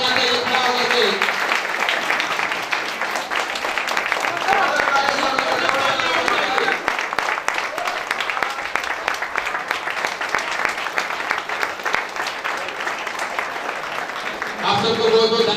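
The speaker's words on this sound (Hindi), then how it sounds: "जोरदार ताली से स्वागत होना चाहिए खड़ा होकर के।" Standing applause welcomes a guest at an achievers' celebration event, a loud, dense crowd clapping that runs steadily for about fifteen seconds, with speech over the PA at the start and end.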